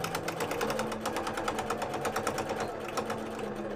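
A sewing machine stitching through many thick layers of a cosplay bow, its needle hammering in a fast, even rhythm that runs steadily throughout, close and moderately loud.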